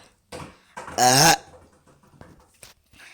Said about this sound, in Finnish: Mä vaan röyhtäsin tohon mikkiin ihan tätä.